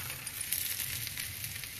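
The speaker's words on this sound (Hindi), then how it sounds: "मैंने कुछ अदरक के स्लाइसेस बना के रखे हैं वो इसमें डालेंगे।" Ginger slices sizzling in hot ghee, giving a steady, faint, hissing fry with light crackles, alone with no talk.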